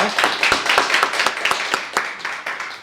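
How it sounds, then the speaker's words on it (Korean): Congregation at an early-morning church prayer service claps in thanks, a quick burst of sharp hand claps with a rapid rhythm, close and fairly loud, lasting a few seconds. "하나님께 감사의 박수 한번 하고 기도하겠습니다."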